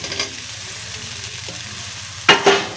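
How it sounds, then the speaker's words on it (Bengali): Potatoes sautéed with salt, turmeric and spices in a pan, a low steady sizzle with a couple of sharp utensil clinks near the end. "দিয়ে আলুটা দিয়ে একটু কষাতে থাকবো"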